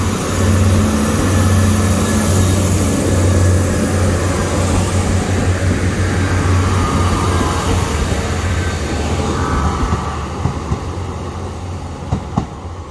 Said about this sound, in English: No, the train's not too old.